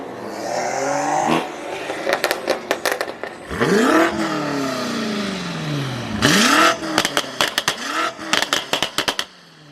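Straight-piped BMW M4 G82 revving at night, with loud rising and falling sweeps that hold and then drop away, followed by rapid bursts of crackling pops between the revs.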